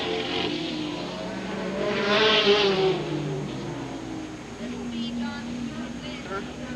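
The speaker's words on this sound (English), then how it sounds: "There's the white flag signifying the last lap for John Ridgway in the 28." Race cars at Hammond River Raceway on the final lap, engines droning steadily and swelling briefly as they pass, heard under an announcer's continuous commentary.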